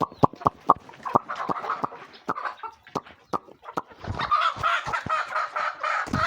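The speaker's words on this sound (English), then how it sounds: "let me try to catch one hen from here" A hen clucks and squawks loudly up close while being caught, with sharp rapid clucks early on, then a denser burst of agitated cackling toward the end.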